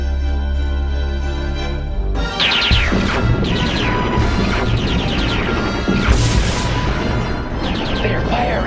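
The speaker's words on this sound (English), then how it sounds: "They're firing on us. It's a Decepticon ambush." Animated Transformers G1 battle effects: a burst of cartoon blaster fire and crashing impacts hits hard after a sustained tonal drone, then the shots and crashes keep rattling along densely at close range.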